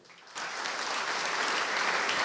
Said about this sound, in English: Please welcome to the St. Louis Sports Hall of Fame, with your applause, Dave Dorr.